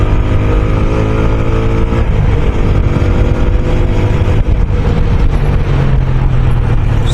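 A car engine pulls hard in second gear in sports mode, its loud rising drone climbing steadily before settling into a rough, constant roar close by.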